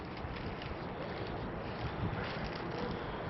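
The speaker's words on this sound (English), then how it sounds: "Now the wind is blowing the other direction." Wind blows outdoors at a garden with seedlings, a soft, continuous rushing buffet against the microphone with no other sounds standing out.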